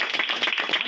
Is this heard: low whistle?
no